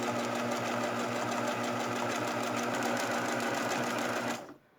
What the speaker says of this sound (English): I'm making these little fishies, so then I'm going to send those through.